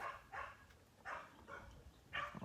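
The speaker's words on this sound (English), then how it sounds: "Ah, dogs." Several dogs bark in the distance, a string of faint, separate barks spread evenly over a few seconds against low background noise.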